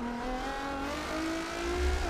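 Car drifting hard in Forza Horizon 4 under wheel control, a steady loud engine drone whose pitch climbs as it revs, with tire noise and a throatier surge near the end.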